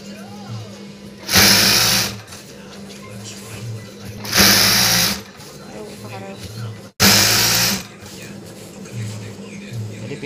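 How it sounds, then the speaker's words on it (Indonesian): A sewing machine stitches the edge of a foam-layered bedsheet in three loud bursts of whirring, each a second or more long, with talking in the quiet gaps between runs. "Kita pertama jahit itu di pinggiran sebelah atas motif yang ada garisnya"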